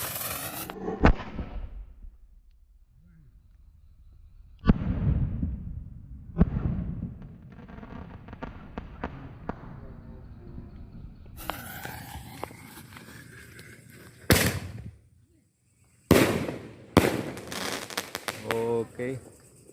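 A large 1.9-inch Roman candle set off for an Eid al-Fitr 2023 celebration fires a series of loud, sharp bursts at uneven intervals, with crackling tails and quieter gaps between shots, while voices talk faintly in the background.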